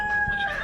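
Chickens cluck briefly and close by while being fed, in a quick burst of fowl sound.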